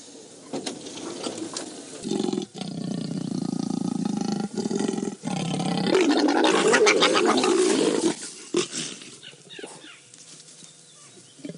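Wild lions roar and growl during mating on a morning safari drive, a loud, close, rumbling series of snarls and deep roars lasting several seconds, tapering into quieter grunts.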